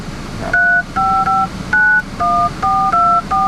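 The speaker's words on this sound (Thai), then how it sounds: "อันนี้ปุ่มกด สามารถกดเบอร์ได้เลย เดี๋ยวผม กดให้ดูนะครับ" MG GS car infotainment phone keypad dialing tones, sounding as a quick run of about eight crisp, loud two-note beeps in an uneven rhythm over faint cabin hum, with no talking.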